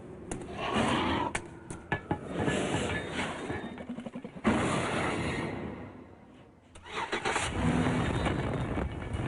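Chevy Impala with a 303 horsepower small block V8 cranks and revs in a TV commercial, a loud, dense roar swelling and easing over about nine seconds with brief gaps and surges.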